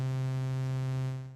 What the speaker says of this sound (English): This is our sine wave.